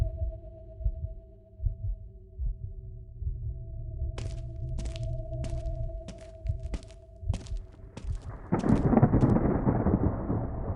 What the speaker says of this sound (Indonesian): Ya Tuhan, hujannya sangat deras.